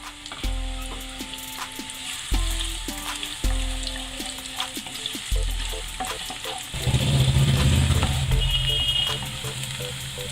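Chopped onions fry in a kadhai with green chili, cardamom, peppercorns and cloves for a dhaba-style egg curry, a loud sizzle that swells when they go in, with background music playing.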